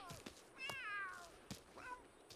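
Cat meows from the video game The Sims 3, several rising and falling calls spaced across the moment, fairly close, with a soft background bed and no voices over them.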